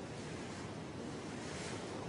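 Sea waves and a land breeze off the Kerkennah islands in Tunisia, a steady broad wash of surf and wind noise, even and unbroken, with no voices.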